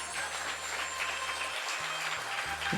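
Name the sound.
audience clapping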